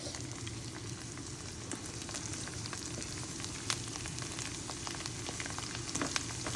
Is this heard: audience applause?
no